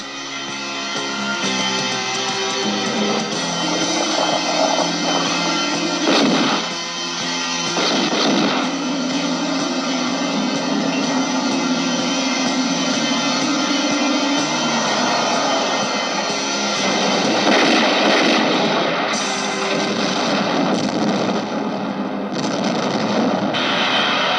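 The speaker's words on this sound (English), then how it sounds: "Yeah, there's a whole lot of explosions." Continuous heavy rumbling blasts and booming explosions roll on loudly with a thick, distorted dramatic soundtrack throughout, with no talking, from the trailer for the film Escape from the Bronx.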